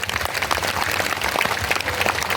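An audience at an annual general assembly claps to welcome an arriving guest, a dense, steady patter of applause that keeps an even level throughout.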